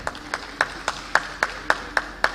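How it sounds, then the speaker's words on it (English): Sparse, evenly spaced hand claps ring out at an event, about ten sharp claps in a steady rhythm, fairly close and clear with no talking over them. "A round of applause, please."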